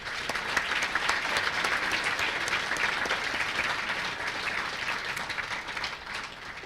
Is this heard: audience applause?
yes